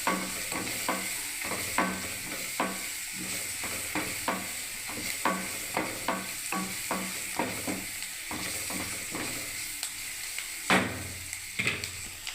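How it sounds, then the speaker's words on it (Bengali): Onions sizzle steadily in a pan while cooking for a mixed-vegetable dalma, with repeated scraping stirs of a spatula giving a regular, close-up rhythm; no one speaks. "পেঁয়াজটা দেখুন বন্ধুরা ভাজা হয়ে গেছে ভালোভাবে"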